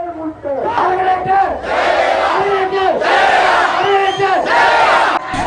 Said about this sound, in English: Large crowds flocked to Golface since last night.